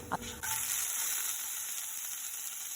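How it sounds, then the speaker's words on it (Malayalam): Whole spices such as cardamom, cloves, cinnamon, fennel, coriander and Kashmiri chili dry roasting in a pan, a couple of quick clatters as they go in, then a steady bright hiss, close and even, no talk. "ഏലക്ക, ഗ്രാമ്പൂ, ഒരു ചെറിയ കറുവാപ്പട്ട, പിന്നെ ഒരല്പം പെരിഞ്ചീരകം. ഇതൊന്ന് ചെറുതായിട്ടൊന്ന് റോസ്റ്റ് ചെയ്താൽ മതി"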